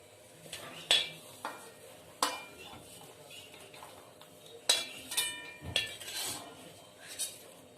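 Fried coconut slices are lifted out of a pan, making scattered metallic clinks and scrapes of a utensil against the pan at an uneven pace, over a faint sizzle of oil.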